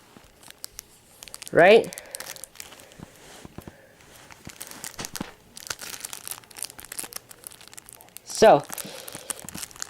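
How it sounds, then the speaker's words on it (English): Crinkly foil wrapper of a Yu-Gi-Oh! card pack is torn open in two sharp ripping bursts several seconds apart, close up, while a person talks throughout. "let's open this. I'm gonna try and open it without getting the card wrecked."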